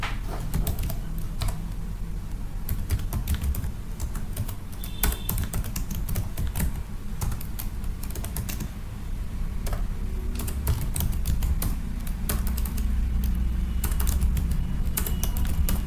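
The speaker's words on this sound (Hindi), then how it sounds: "बारी बारी से आपको नाम टाइप करना है" Steady, fast typing on a computer keyboard, names being entered into an Excel marksheet, with dense continuous key clicks close up and no talking.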